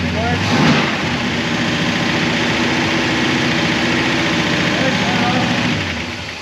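A 1966 Oldsmobile 442 V8 with an Edelbrock carburetor idles steadily and loud in close range, holding an even low rumble the whole time after a brief revving swell near the start.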